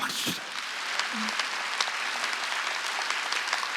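Congregation clapping during a Sunday church service, a continuous, fairly soft patter of many hands with a few sharper claps, heard at a moderate distance.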